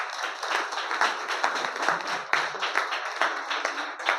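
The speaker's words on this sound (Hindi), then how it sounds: "क्या भास्कर जी के लिए एक बार जोरदार ताली" Audience applause at a direct selling meeting, a dense steady wash of many hands clapping at close range for about four seconds, with no talk over it.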